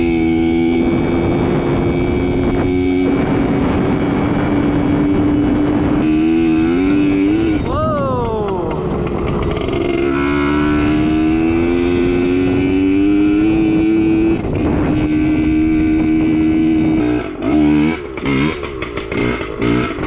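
A Yamaha PW80 dirt bike engine idles and warms up in a garage after a chokeless start, with a loud steady two-stroke drone, a few brief revs rising and falling midway, and uneven sputtering near the end.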